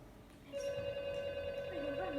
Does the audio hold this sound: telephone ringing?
yes